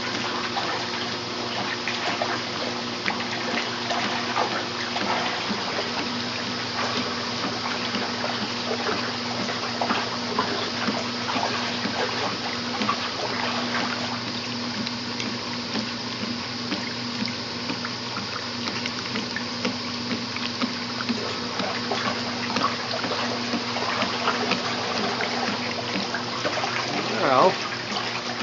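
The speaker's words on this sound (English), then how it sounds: "You watch the power as that little agitator drags those clothes down" Simplicity twin-tub washing machine agitating a load of clothes, a continuous sloshing churn of water with a low steady motor hum underneath, even and moderately loud, with a voice talking over it at times.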